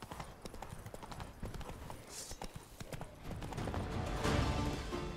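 Horse hooves clip-clop steadily in the game Witcher 3, close and prominent, growing louder toward the end, with faint background sound.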